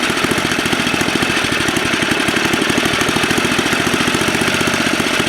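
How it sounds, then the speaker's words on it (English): A Tecumseh HS40 small engine idles with a fast, even, chugging putter that stays loud and close throughout with no talk. "It's been idling now for about 5 minutes."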